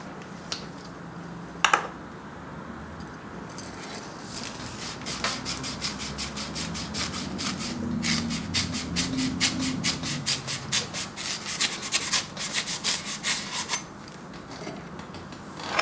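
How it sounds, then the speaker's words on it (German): Trumpet tubes scrubbed with an abrasive fleece pad, which is softer than sandpaper, in an instrument maker's workshop: a rapid, steady run of close, raspy rubbing strokes with a few isolated knocks early on. "Lukas Böpple putzt die Rohre mit einem Vlies."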